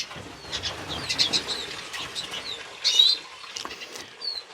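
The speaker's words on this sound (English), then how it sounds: "So that is the pair of mealy redpolls that's flying about in the aviary." A pair of mealy redpolls, a two-year-old cock and a hen, flit around an aviary, with soft wing flutters and occasional thin high chirps scattered over a faint background.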